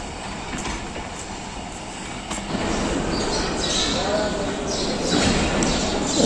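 A passenger train rake for the Kohat Express rolls into a station platform in Pakistan, its wheels rumbling and clattering with rising metallic squeal and clanks, growing louder toward the end.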